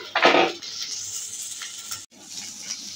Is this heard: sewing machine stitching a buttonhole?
no